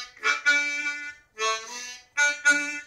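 A short riff played on a Suzuki Overdrive harmonica, with three bright, reedy phrases separated by brief pauses, close and clear with no talking.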